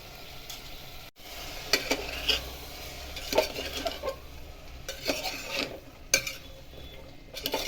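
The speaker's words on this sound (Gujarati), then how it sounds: "આ રીતે બરાબર ગ્રેવી સાથે ગવાર મિક્સ કરી દઈએ." Cluster beans are stirred into a spiced gravy in a pan with a utensil, giving soft wet scrapes and occasional metallic taps over a faint sizzle, close and unhurried, with no voice.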